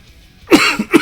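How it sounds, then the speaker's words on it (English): Two dry coughs close to the microphone, sharp and short, following a brief quiet moment. "These are dry coughs that feels like allergies."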